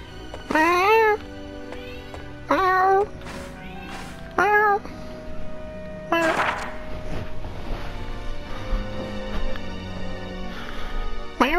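Domestic cat in Odin Sphere Leifthrasir meowing three times in rising, wavering calls, close and clear, followed by a rougher burst and softer ambient game sounds.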